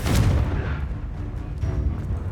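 A Confringo blasting spell explodes in Hogwarts Legacy, a loud close burst followed by rumbling booms and crackling debris over about two seconds, with no talk.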